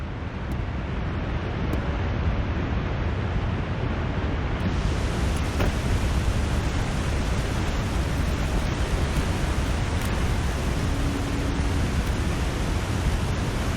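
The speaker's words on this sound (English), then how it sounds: "Nice loud waterfall." A loud, constant rushing roar of falling water, broadband and unbroken, with no voices, from a waterfall in the video game The Long Dark.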